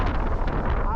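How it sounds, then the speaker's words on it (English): Strong wind gusts of up to 50 mph on a rocky, snowy mountaintop along the Appalachian Trail, buffeting the microphone as a loud, continuous roar that fills the short moment. "It's so windy right here."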